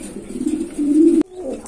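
A male pigeon coos steadily inside a pigeon loft, a low throaty rolling call that swells louder before cutting off sharply, followed by a softer short coo.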